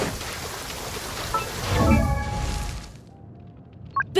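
Rain and a rumble of thunder in the video game Genshin Impact: a steady wash of rainfall swells into a low, rolling thunder peak before fading toward quiet, with a couple of brief clicks at the end.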